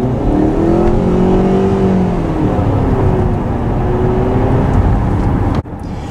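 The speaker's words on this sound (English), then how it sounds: "now I'm going to do a heavy acceleration" A Honda CR-V Hybrid under heavy acceleration, the engine droning loud and close with a rising, wavering whine that holds steady for several seconds before a sudden brief dip near the end.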